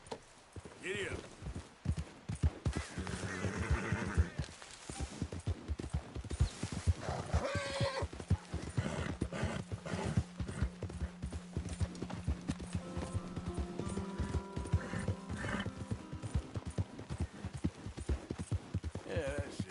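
A horse in Red Dead Redemption 2 gallops with steady, rapid hoofbeats and lets out neighs, loud and close throughout, while someone talks to the horse over the running.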